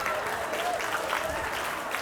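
Applause from a college staff crowd at an all-college day gathering, a steady dense wash of clapping at moderate loudness filling the short moment with no break.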